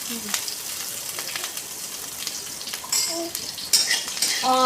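Oil sizzling and frying in a hot pan for a fish curry, with steady crackle, a few clinks of a utensil, and stirring scrapes near the end.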